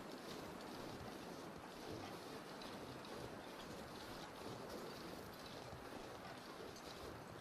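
Howling wind in the snowy wilderness of The Long Dark survival game, a steady, loud roaring gust that fills the whole stretch without a break and with no voices.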